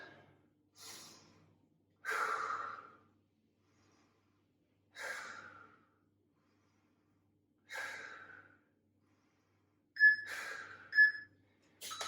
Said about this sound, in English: And of course, breathe.